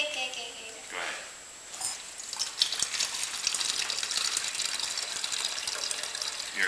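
Water poured into a container while making a Master Cleanse drink with syrup, a steady broadband gushing splash lasting several seconds, close and fairly quiet, with brief talk at the start.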